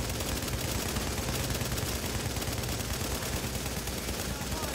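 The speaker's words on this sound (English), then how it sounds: "Oh, they're starting to take shots at me." Enemy gunfire aimed at the player in a video game, with a shotgunner among the attackers: a dense, unbroken barrage of rapid shots and crackle that fills the whole stretch at a steady, loud level.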